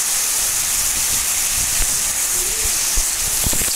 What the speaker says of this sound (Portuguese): Aqui tá chovendo